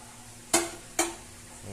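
A child washing dishes at a sink makes two sharp clinks of crockery about half a second apart, close and clear over a quiet background hum.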